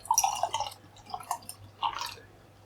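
Daintree beer pours into a glass, with bright splashing and trickling in a few short bursts, close and fairly clear, with no speech.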